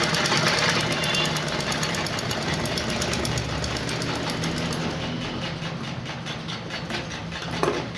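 A sewing machine stitching a lined blouse runs with a steady, close, rattling hum for the whole stretch, loud and unbroken with a fast mechanical pulse.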